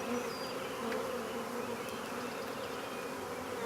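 Honeybees buzz steadily and continuously around an open hive during an April brood inspection, a dense close swarm drone with no talk over it.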